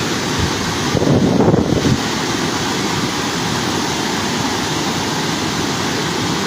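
Strong wind buffets the microphone in a steady roar beside the Karnaphuli River at Kaptai dam, with a louder gust early on, and no voices.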